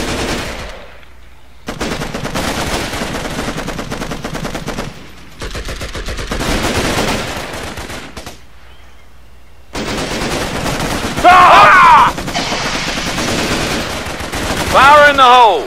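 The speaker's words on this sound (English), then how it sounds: "I'm under fire!" Sustained bursts of automatic gunfire in the Xbox 360 shooter Raven Squad, loud and dense, broken by short lulls, with game voices and rising electronic tones layered over the shooting.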